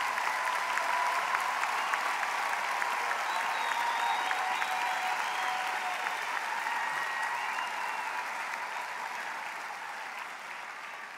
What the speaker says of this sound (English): give a last hand of applause for the performance of our students